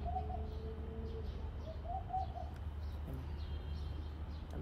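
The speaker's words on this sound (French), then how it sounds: "On dirait qu'il y a un hibou. Vous entendez ce bruit?" An owl calls somewhere outside with a few soft, hollow hooting notes, faint and distant, over a steady background rumble and hiss.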